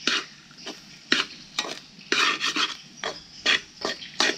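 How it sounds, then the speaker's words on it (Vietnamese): Fried rice with seafood is stir-fried over a charcoal fire, with close, rhythmic scraping and tossing strokes against the pan amid a soft sizzle and no talking. "mình luộc trước cho nó mềm đi rồi mình xào chung với lại hải sản luôn nha"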